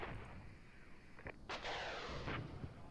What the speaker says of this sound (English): There comes the artillery, really could use you now.